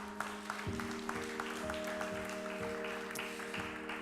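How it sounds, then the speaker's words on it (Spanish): A church congregation claps in scattered, irregular applause, faint and distant, with a sustained organ or keyboard tone underneath. "Aplauda su nombre en esta noche."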